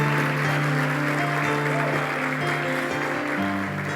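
Church congregation applauding during a sermon, steady dense clapping under sustained music tones, loud and continuous throughout.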